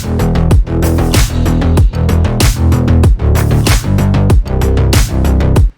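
Layered analog glide and classic pop synth basses pulse in steady sixteenth notes under a driving synthwave drum beat, loud and dense throughout with rhythmic ducking dips and no voices.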